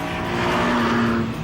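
A sports car with a 2-litre VTEC engine revs hard in a loud, rising, high-pitched howl that peaks and then tapers off near the end, heard close and alone.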